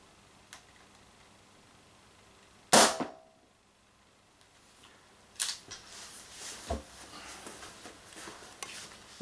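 An Umarex TP50 Compact pistol fires one sharp, loud crack close by, followed by quieter clicks and handling noise.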